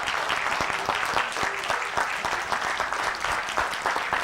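An audience at a scripture teaching session gives a round of hand clapping, with scattered sharp claps over a steady wash of applause that holds evenly for several seconds.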